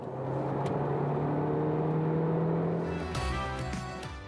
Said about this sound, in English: it makes her smile every time she floors the accelerator